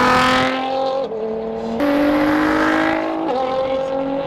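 A loud car roars nearby, its engine note climbing and dropping sharply through several gear changes as it speeds past, loud and dominant throughout.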